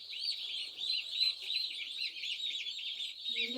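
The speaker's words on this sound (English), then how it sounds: "Look, they're little baby turkey birds." Baby turkey chicks on a farm peeping continuously in a high, rapid chorus, close and fairly soft, with a faint low cluck near the end.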